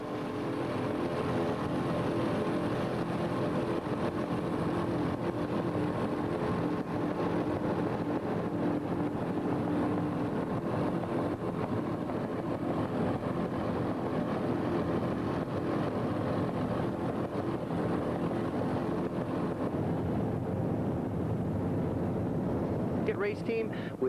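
A 27-foot Century racing powerboat runs flat out on open water, a constant loud engine roar mixed with wind and water rush that holds steady throughout, with no clear talk over it.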